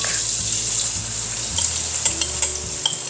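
Garlic sautéing in a pan: a steady, close sizzle of frying with a high hiss throughout and a few faint stirring clicks, no talking.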